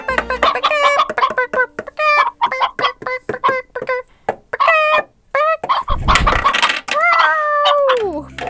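A toy chicken plays its clucking sound: a loud, close run of rapid clucks and squawks ending in a longer crowing call, with no talking.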